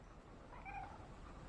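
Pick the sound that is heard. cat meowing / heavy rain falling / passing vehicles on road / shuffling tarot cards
cat meowing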